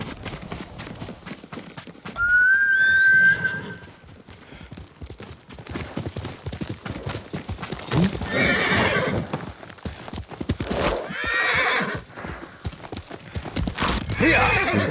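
Horse in the Ghost of Tsushima video game: a clear, loud whinny near the start, followed by steady clip-clop hoofbeats of the horse moving, with rustling and game ambience, no talk.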